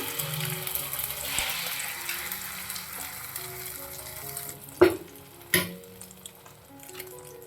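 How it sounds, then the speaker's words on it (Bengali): Beaten egg with chopped onion and chili fries in oil on a flat griddle, a soft steady sizzle followed by two sharp clanks of a utensil near the end, no one speaking. "ফেটিয়ে রাখা এই যে গুলিয়ে রাখা ডিম আর পেঁয়াজ লঙ্কা কুচিটাকে আমি একটু দিয়ে দিচ্ছি"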